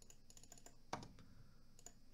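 Arrow keys tapped on a computer keyboard give faint, scattered clicks, with one sharper press standing out, close but quiet.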